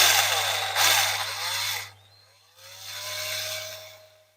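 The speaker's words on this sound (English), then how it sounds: "I've got a battery drill on the slowest speed." Battery drill at its slowest speed drilling out rivets on a diecast Matchbox model car, two bursts of whirring and grinding separated by a short pause, close and fairly loud.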